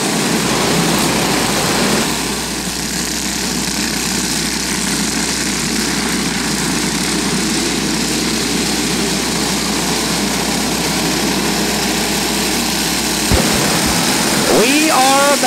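Flathead race car engines drone together as a short-track race starts, a loud sustained engine roar with a broad rumble that swells slightly near the end, heard under a track announcer's voice.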